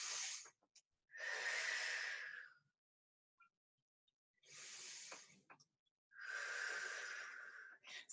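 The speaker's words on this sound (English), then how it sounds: "Stay here and breathe. 2 deep breaths." Slow, deep breaths during a stretching exercise, heard as four long airy inhales and exhales separated by near-silent pauses, close and soft.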